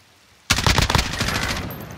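Rapid burst of automatic gunfire in a video game erupts after a quiet moment, loud close cracks in quick succession followed by a ringing, decaying tail.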